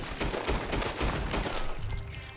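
Rapid, dense gunfire from a Red Dead Online shootout rattles on without pause, many overlapping shots fired close and loud for the whole stretch.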